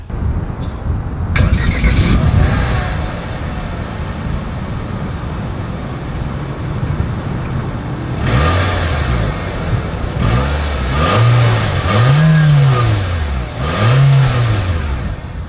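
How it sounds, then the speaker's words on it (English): A 2023 Nissan Kicks engine and exhaust rev repeatedly, loud and close, with rising and falling revving sweeps that climb in pitch over a steady idle, and no one talking. "As always, here is that exhaust clip."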